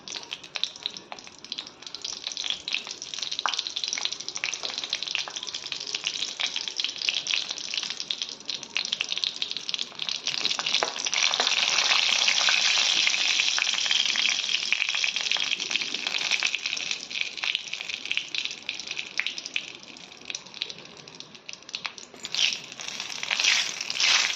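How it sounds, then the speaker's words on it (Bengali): Dried chillies fry in hot oil for dal, a continuous crackling sizzle close by that swells louder midway, with occasional stirring and faint kitchen noise. "তারপর আমি শুকনো মরিচগুলো একটু ভেজে নিব ডালের জন্য।"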